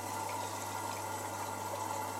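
An AEG Lavamat L88810W washing machine runs water on an energy saver cotton cycle. The flow is a steady, moderate rushing hum under a low electrical tone, with no one talking.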